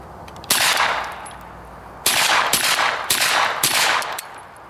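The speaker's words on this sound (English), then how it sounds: "here we go, shooting into the dirt pile" A Suomi M-31 9mm submachine gun fires outdoors into a dirt pile in four loud bursts, one isolated burst followed by three close together, each a sharp rapid rattle with a short echo trailing off.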